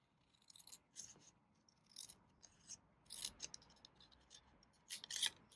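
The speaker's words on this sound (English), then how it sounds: "And I'm just going to cut that freehand." Scissors cut paper freehand for a handmade card, a run of quiet, close crisp snips in uneven rhythm with brief pauses between cuts, no talking.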